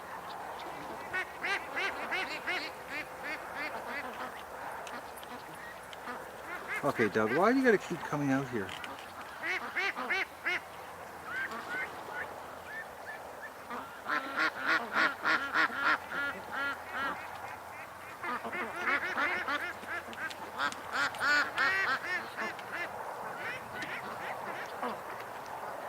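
Ducks and geese quack and honk in repeated bursts at a summer pond, close and fairly loud, with a voice speaking over them partway through.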